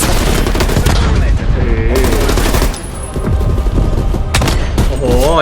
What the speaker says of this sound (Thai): ยิงอัดสองคนรวด